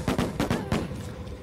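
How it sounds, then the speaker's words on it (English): Fireworks burst in the online horror game Dead by Daylight: a rapid cluster of five or six sharp crackling pops in quick succession, close and fairly loud, fading at the end. "Random dropped fireworks on me."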